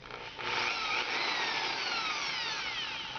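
A power drill fitted with a quick-change hex shank adapter and a thin drill bit whirs steadily and up close, spinning up after a brief quiet start and running alone for about three seconds.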